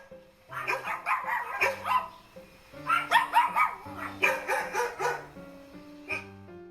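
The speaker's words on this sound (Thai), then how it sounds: "เสียงสุนัข" A dog barks and yips repeatedly in quick bursts, close and fairly loud, with a short pause midway and a final single bark, over light background music.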